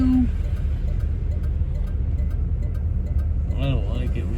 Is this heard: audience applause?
no